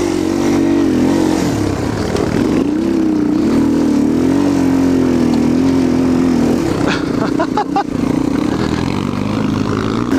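A Yamaha TTR230 trail bike engine drones loudly and close while riding steep rocky off-road terrain at the El Mirage OHV area, pitch wavering with throttle and bumps before a rougher, clattering stretch near the end.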